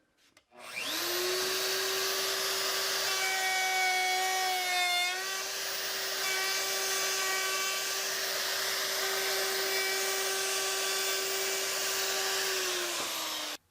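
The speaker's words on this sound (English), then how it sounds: "I've got this radius I can use a pattern bit on and just route that corner on there." A router fitted with a pattern bit routes a radius into a wooden shelf corner, a loud steady high whine that spins up, holds for several seconds under cutting noise, then winds down.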